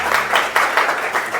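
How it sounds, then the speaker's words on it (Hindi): A seminar audience gives a short burst of enthusiastic applause, many hands clapping together in a loud, steady wash with rhythmic swells and no speech on top. "एक बार जोरदार ताली।"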